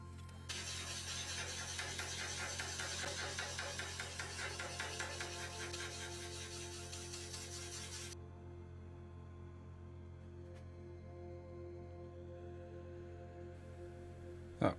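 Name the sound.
slow-motion replay of woodturning chisel hitting hidden nail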